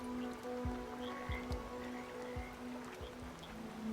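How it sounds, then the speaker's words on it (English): Steady rain falls in the Dungeons of Hinterberg game world as a soft, distant wash, with scattered individual drops tapping nearby under a low constant hum. "Sheltered, listening to the raindrops."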